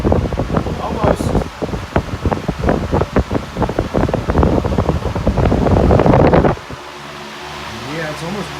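A Patton industrial fan roars on its high setting right beside the microphone, with heavy buffeting gusts of wind hitting the mic before the rush drops to a lower steady whoosh.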